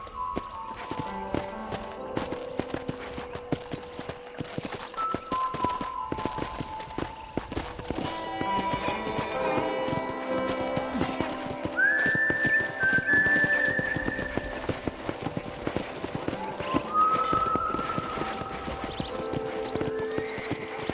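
Horse hooves clip-clop steadily through the Red Dead Redemption game world, mixed with whinnies and a bed of game music and ambience across the whole stretch.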